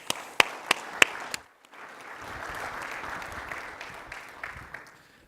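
A few loud, separate claps up close, then a broader wave of audience applause building and holding as speakers take the stage at a conference.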